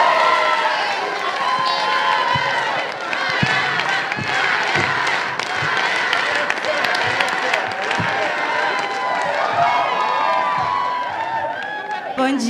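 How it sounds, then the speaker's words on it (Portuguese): A crowd at a community gathering in Heliópolis, São Paulo, cheers, shouts and claps steadily and loudly throughout, a dense wall of voices with scattered handclaps. "Palmas! Palmas!"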